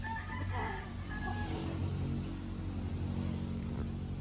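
Faint chicken clucks and a distant crow drift over a steady low rumble of background noise, quiet and far off.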